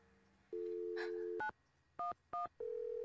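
In a Nancy Drew video game, a telephone dials 911: a steady tone, then three quick keypad beeps, then a sustained ringing tone. The sound is clean and close, with no voices.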